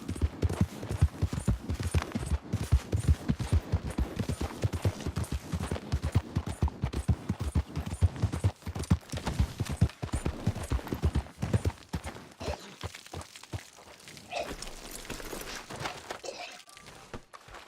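Horse hooves clip-clop steadily in Red Dead Redemption 2, a fast, even gallop-like rhythm running loud and close for most of the stretch before thinning out into quieter ambient sounds near the end.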